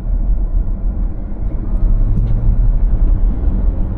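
Geely EX5 electric car accelerating hard, heard from inside as a low steady road and motor rumble that swells slightly as speed builds, with no engine roar.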